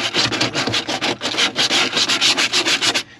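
Sandpaper is rubbed back and forth over the surface of a stock tank, giving loud, close, rapid rhythmic scratching strokes that continue without pause and with no voices.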